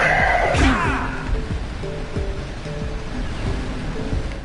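A geyser erupting in Jak & Daxter, a loud rushing burst of water at the start that settles into a continuous surf-like wash with faint musical tones underneath.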